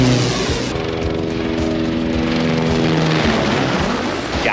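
Passenger airliner flying low on its landing approach over a crowded beach, a loud, steady roar of jet engines holding close and constant with a broad rumbling drone throughout.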